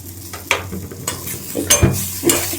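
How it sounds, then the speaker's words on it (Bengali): Pav bhaji mixture with raisins is stirred in a pan over the gas, with close scraping strokes of a spatula every half second or so over a light sizzle, and no voices. "এবার আরেকটু নাড়াচাড়া করব গ্যাসটাকে এবার বন্ধ করে দেব"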